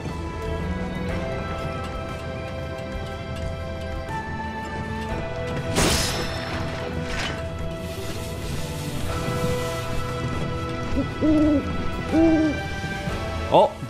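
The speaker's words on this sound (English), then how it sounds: "Oh, the bird." A bird hoots repeatedly in the video game Final Fantasy VII Rebirth, layered over game music and ambience with a crash partway through.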